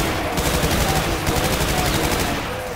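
Rapid machine gun fire with an attached grenade launcher in Brutal Doom, a dense, loud, continuous rattle of shots running unbroken throughout.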